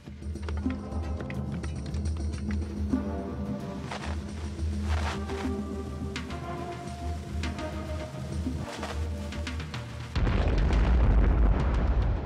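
A siege mine blasts through defensive foundations during an Ottoman assault, heard as a sustained rumbling roar with scattered crackles under a musical bed, then a sudden louder surge of noise near the end.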